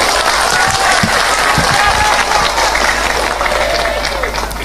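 A crowd at a religious sermon applauds loudly and steadily, dense clapping filling the space with a voice faintly beneath it.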